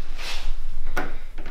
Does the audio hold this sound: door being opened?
yes